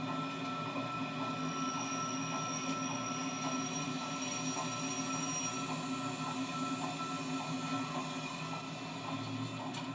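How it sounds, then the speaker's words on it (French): Belgian BB 1191 electric locomotive entering Rotterdam Central station on the Brussels to Amsterdam run, heard from the cab: a steady, even rumble of wheels and motors with faint high squeals, continuous and without speech. "Nous entrons en gare centrale de Rotterdam"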